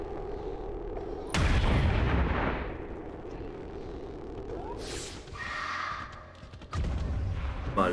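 Booming gunfire from XCOM 2, two heavy blasts with long rumbling tails and a sharper crack between them, with faint talking underneath.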